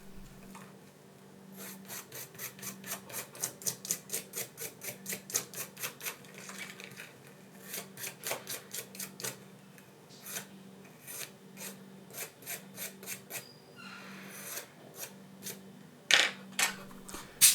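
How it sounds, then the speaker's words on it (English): Rapid back-and-forth toothbrush scrubbing on the back glass of a Huawei P30 Pro, cleaning away dust and small bits of leftover glue, heard as close, rhythmic bristle strokes in quick bursts with short pauses between runs. "I'm cleaning it with a toothbrush"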